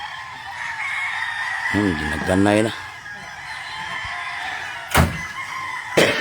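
Chickens call, with one rising crow-like cry in the middle standing out over steady outdoor background noise, followed by a few sharp knocks near the end, while a person talks nearby.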